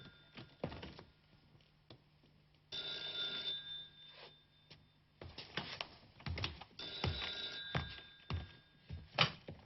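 A telephone bell rings in bursts through a tense indoor scene, its tone bright and insistent, sounding repeatedly at moderate level amid room noise and scattered knocks.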